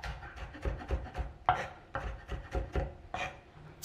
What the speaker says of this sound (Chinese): 准备几个蒜，用刀压扁，再全部切成蒜末备用